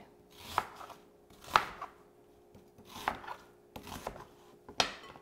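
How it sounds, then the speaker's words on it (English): A manual food processor chops onion: four sharp, chattering bursts of blades striking against the bowl, spaced about a second or more apart, close and fairly loud, with no talking. "In our good old manual food processor. This sucker gets a workout in my home, for sure, with all the onions we use."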